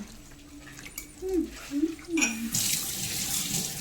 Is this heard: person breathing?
no